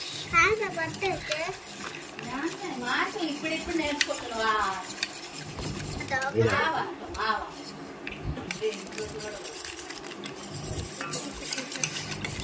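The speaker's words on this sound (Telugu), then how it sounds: "సో మనం బాగా దోశ పిండిలాగా మనమైతే కలుపుకోవాలి" Flour being stirred into dosa batter for a sweet ginger dosa, spoon scraping and clacking against a bowl in steady strokes while people, including a child, talk over it.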